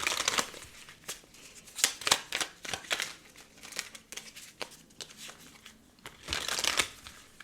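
A tarot card deck is shuffled by hand in quick irregular riffles and slides, close and crisp, with brief pauses between bursts.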